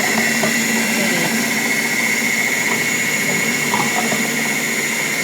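A German-made Severin food processor runs with its grater attachment, giving off a steady, loud, high-pitched motor whine with a constant tone and faint rattling from the grating.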